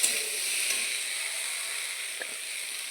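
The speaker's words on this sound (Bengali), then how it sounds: "এই যেমন ভালো করে কষানো হয়ে গেছে, এখন আমি জল দিয়ে দেবো।" Water poured into a hot pan of spiced potatoes and soybeans gives a steady, close sizzling hiss with a few faint pops.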